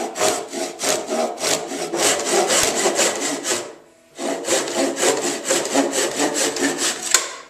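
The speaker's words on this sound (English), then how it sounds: "we'll simply just take this little saw, and we'll use our saw to go ahead and go the rest of the way through" A small hand saw cuts through a wooden segmented vase held on a lathe, steady rasping strokes close and loud, with one short pause before the sawing continues to the end.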